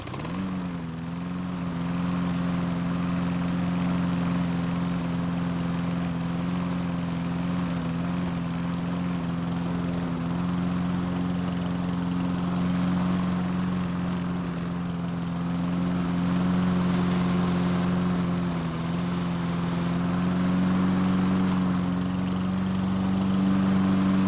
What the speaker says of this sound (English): start the mower and test out the self-propel